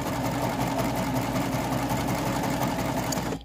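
A Baby Lock serger stitches fabric for a table runner at high speed, a steady, close, whirring mechanical hum with rapid needle chatter that runs without a break and cuts off abruptly at the end.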